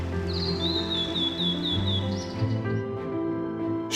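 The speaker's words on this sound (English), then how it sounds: "Visitors to this warm and reassuring environment are greeted by the sound of chirping" Birds chirp in a forest in Shinshiro City, Japan, a repeated, rising series of high tweets over a steady background hum, with softer calls fading toward the end.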